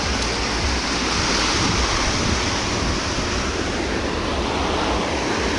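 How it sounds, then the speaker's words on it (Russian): Sea waves wash against large natural stones along a resort shore. The surf rolls in a constant loud roar and hiss, with wind buffeting the microphone and no voices. "вот эти мощные камни ласкают ласковые волны"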